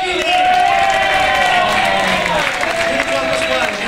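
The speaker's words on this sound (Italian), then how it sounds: "un applauso così." An Italian audience applauds at a season presentation in Riccione, sustained clapping mixed with cheering and crowd voices, loud and continuous throughout, with a voice shouting over it.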